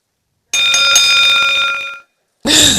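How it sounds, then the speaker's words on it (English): A loud electronic buzzer sounds a steady tonal blast for about a second and a half during a California governor race event, then cuts off, followed after a short gap by a burst of broadband noise. "buzzer."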